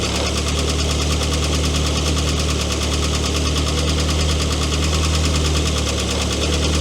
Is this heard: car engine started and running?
yes